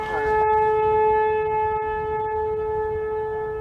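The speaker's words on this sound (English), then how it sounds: "Testing the old tornado sirens." A tornado siren under test sounds a loud, steady wailing tone that holds throughout and fades slightly toward the end, with no voices heard.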